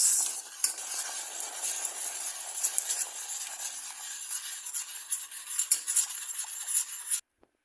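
Cinnamon roll batter being stirred with milk in a bowl, a close scraping and swishing of utensil against the mixture that keeps going with uneven strokes, then cuts off abruptly into silence.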